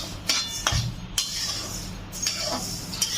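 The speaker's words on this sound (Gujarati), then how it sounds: "હવે નાખીશું અંદર જીરું. એકદમ ધીમા ગેસે શેકવાનું છે. હલાવતા રહેવાનું એટલે બળી ન જાય." Cumin seeds roasting in a pan over a low flame, stirred with a metal utensil that clinks and scrapes against the pan in several short bursts, close and moderately loud, with no talking.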